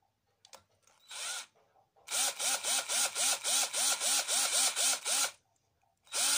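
A drill boring into wood for an embroidery frame, heard as a brief burst and then a run of about a dozen quick, evenly pulsed drilling strokes, close and loud, with no talk.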